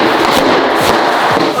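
A rapid, dense volley of loud gunshots cracks continuously for a moment, sharp reports blurring together into a harsh, near barrage.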